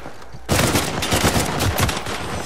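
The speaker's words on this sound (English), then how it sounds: "we get shot from the other side now" Uncharted 4 multiplayer gunfire erupts suddenly into a loud, close, sustained volley of rapid shots that keeps rattling for about two seconds without pause.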